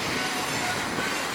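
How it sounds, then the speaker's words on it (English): A train rolls past in Amsterdam, heard as a steady, moderately distant rumble and wash of wheel noise on the rails, with no talking. "Another train. Choop choop."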